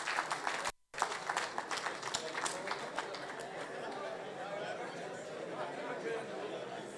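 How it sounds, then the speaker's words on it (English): An audience at a live event claps in a scattered, moderately loud round of applause, with a brief drop near the start and people talking underneath. "I think we deserve a clap for ourselves"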